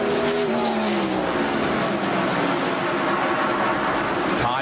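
NASCAR stock cars racing at Richmond in 1996, a steady loud roar of engines with a pitch sliding down as cars pass, continuous throughout and ending with a rising whine.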